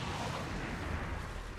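A rocket launches in the strategy game XCOM 2, a steady, dense roaring blast that holds loud across the whole moment without letup, with no one talking.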